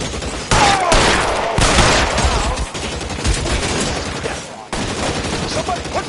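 A loud, close firefight in the LA Noire video game, with rapid bursts of gunshots, short gaps and renewed volleys throughout.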